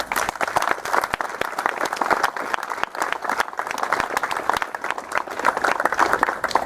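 Community members applaud at a home build event for a veteran's family, a lively crowd of close, crisp claps with distinct individual hand strikes, sustained and even throughout.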